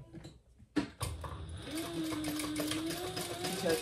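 A sewing machine stitches around the zipper box of a tote bag, running steadily and close up after a sharp start, with a continuous whirring hum for several seconds.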